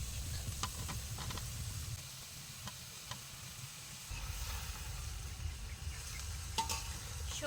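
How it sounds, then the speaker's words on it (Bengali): Lightly fried winter vegetables go into a pan of well-cooked spiced masala, with a continuous close sizzle and hiss broken by scattered clicks and taps of stirring, and no voices. "মশলাগুলো খুব ভালোভাবে কষে গেছে, এখন ভাজা সবজিগুলো আগে দিয়ে দিব।"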